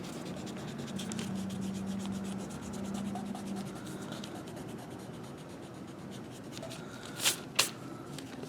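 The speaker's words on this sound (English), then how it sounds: "we're going to go ahead and erase that part of our oval" Pencil eraser rubbing on paper while sketching an owl on a branch, a soft continuous scrubbing, close and quiet, with a couple of sharper ticks near the end.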